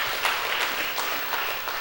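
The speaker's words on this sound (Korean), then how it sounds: "청년들한테 한 박수 한번" A church congregation applauds steadily, a dense wash of many hands clapping at once, fairly close and continuous.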